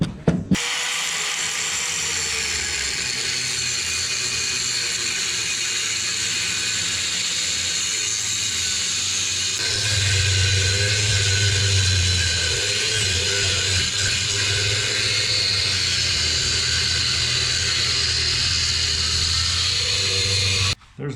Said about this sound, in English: So let's cut the flange off.